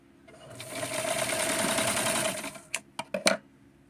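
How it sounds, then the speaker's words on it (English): A sewing machine stitches a doll dress in a fast steady whir for about two seconds, then stops with a few sharp mechanical clicks and thumps close by. "we are going to sew the dress together"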